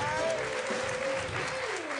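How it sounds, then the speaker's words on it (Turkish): Studio audience at a Turkish television talk show applauds, a short burst of steady clapping under a voice with a sustained musical tone. "kocaman bir alkış"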